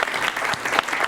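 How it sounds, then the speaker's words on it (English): Audience at an improv comedy show clapping in a steady, dense round of applause, close and fairly loud throughout without pause. "Give those 3 a round of applause."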